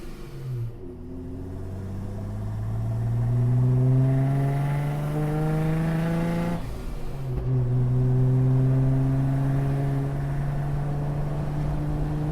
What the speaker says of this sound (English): Jeep sounds phenomenal, from exhaust notes to supercharger. So we're gonna go ahead and do a first to third real quick.